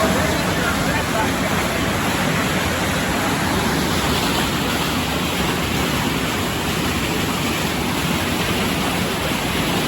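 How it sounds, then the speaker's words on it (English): Corn mash ferments with yeast in a distillery vat, filling the space with a dense, constant rushing fizz and roar of bubbling that holds steady and loud throughout. "bubbling and boiling is nothing but the yeast converting sugar to alcohol"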